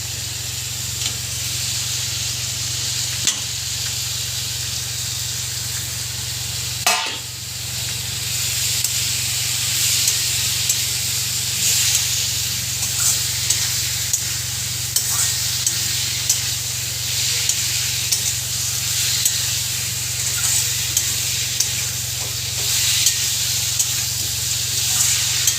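A pan holding a cooked spice paste with fried potato and eggplant hisses steadily and loudly, with a low hum underneath and a few sharp clicks and knocks from stirring.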